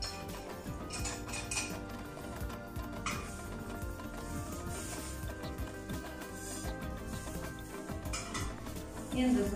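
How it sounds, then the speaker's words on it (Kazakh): Ingredients stirred in a clean bowl: ground talkan with a little sugar and butter, the spoon or utensil scraping and clinking in a steady rhythm against a low murmur of background sound, with no talk. "Енді бұларды жақсылап араластырып"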